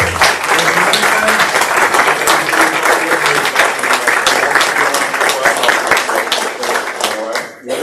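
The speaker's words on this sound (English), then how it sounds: "I would just like to ask if we could give Doug a hand clap" Sustained hand clapping from attendees at a board of supervisors meeting honoring a departing member, loud and dense throughout before easing off near the end, with a bit of talk mixed in.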